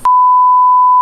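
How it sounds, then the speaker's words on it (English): A censor bleep sounds as a single loud, steady pure beep tone lasting about a second, starting and stopping abruptly with nothing else heard. "We have to bleep the whole thing."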